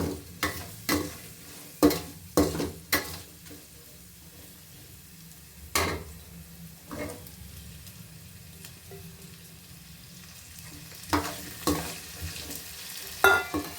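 Green peas fry in a pan for pulao, a soft continuous sizzle broken by sharp scraping stirs and clinks of a spoon against the pot, coming in irregular clusters.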